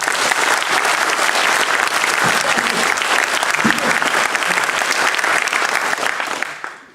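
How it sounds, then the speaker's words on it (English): A room full of students claps loudly and vigorously in a dense, even burst of many hands, holding strong for several seconds before tapering off abruptly at the end. "So do full proper enthusiastic claps."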